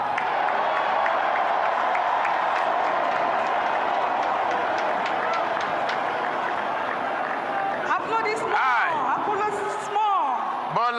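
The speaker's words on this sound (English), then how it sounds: "Applaudissements" Crowd applause and cheering fill a large venue after a Nigerian presidential oath of office, a steady dense wash of clapping that continues throughout, with a voice and shifting tones rising over it near the end.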